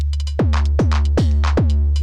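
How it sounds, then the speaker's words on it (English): A drum machine overdriven through an ARP 2600 preamp pounds out a steady run of heavy, distorted kick hits with falling-pitch tails, interleaved with gritty, crunchy upper hits over a constant low hum. "You hear a little bit of overdrive there."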